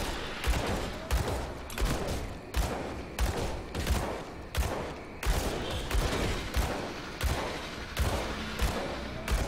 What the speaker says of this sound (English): I'll just keep shooting bullets into the mob